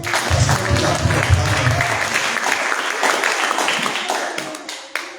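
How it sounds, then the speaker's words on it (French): A church congregation claps hard in a loud, thick burst of applause that slowly thins and fades near the end, with a few voices mixed in. "Applaudis pour toi-même."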